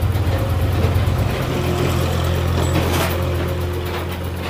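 A Honda CG125 motorcycle engine idling steadily after a tappet adjustment, a close, even low thrum with a smooth, unwavering rhythm and no talk over it.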